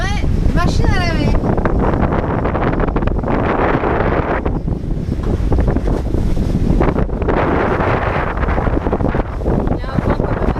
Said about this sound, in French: comme vous pouvez le constater, la mer est déchaînée